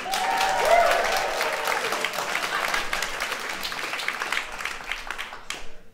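A live comedy club audience at a stand-up show bursts into loud applause that swells near the start and then tapers off over several seconds, with a voice speaking over the clapping.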